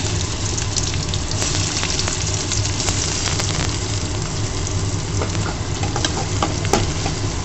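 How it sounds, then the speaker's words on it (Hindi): Cumin seeds and asafoetida sizzle steadily in hot mustard oil, a close, continuous frying crackle with a few sharper pops and no voices. "तो पहले डाला है तेल में जीरा और हींग, ये तेल है सरसों का"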